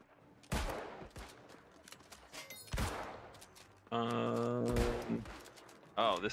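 Players shooting in the New World video game, a few sharp gunshot-like blasts at irregular intervals, loud and close, with tonal game effects and other noises between them and no clear talk.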